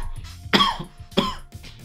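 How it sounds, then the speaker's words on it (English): A man coughs twice in a video game scene about farming, two sharp, close bursts about half a second apart over quiet background noise. "He sneezed, I coughed."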